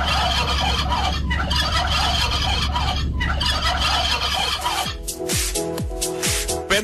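A turkey gobbling sound effect in a TV promo, a loud rapid rattling gobble that runs over a busy backdrop and ends in a few sharp descending calls.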